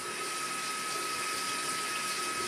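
Water running steadily from a light changing shower head, a soft even hiss of spray continuing alone without any voices.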